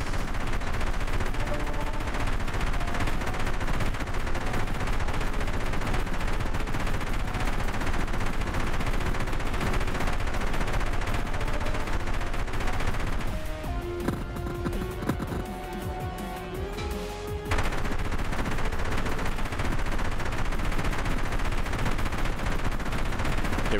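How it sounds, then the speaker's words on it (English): A level 2 autocannon fires from a helicopter in a video game: a continuous, loud, rapid stream of shots for over twenty seconds, briefly easing off in the middle before the barrage resumes. "Alright, auto cannon level 2, baby."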